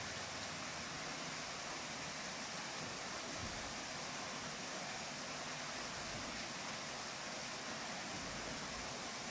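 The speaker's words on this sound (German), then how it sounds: "Das Rad dreht sich, aber das Geräusch der Welle gab uns kein gutes Gefühl." Water rushing and splashing without pause around the repaired wooden wheel of a water mill at Bruchmühlen in Bruchhausen-Vilsen, a dense, even roar of falling water heard close and continuous, with no voices.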